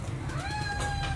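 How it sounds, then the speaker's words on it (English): A cat meows from outside a door, one drawn-out rising and falling call over a low steady room hum, clear and fairly close. "Cat's waiting outside."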